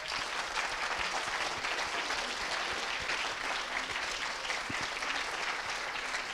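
An audience at the PSL 2018 final of a three-minute thesis contest gives a steady, even round of applause, heard from a slight distance and continuing without a break.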